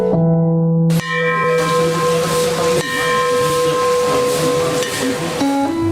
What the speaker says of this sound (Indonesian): Lonceng ini merupakan tanda waktu besuk bagi keluarga sang penghuni sel Lembaga